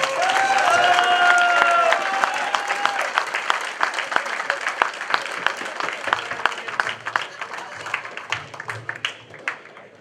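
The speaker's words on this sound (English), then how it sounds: "Give a round of applause for founder for an excellent job." Audience applause at a Florida cricket association award ceremony, a dense wash of clapping that runs steadily for the full stretch and thins slightly toward the end, with a few voices heard over it at the start.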